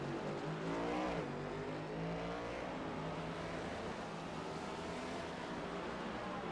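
A NASCAR race car in the iRacing simulation heads into the braking zone at Sonoma, its engine a steady loud drone with a quick pitch drop early as it slows, then holding a constant buzzing tone.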